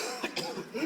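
A single short cough from a person sick with the flu, close and fairly loud, standing alone with a raspy burst and a brief rough tail.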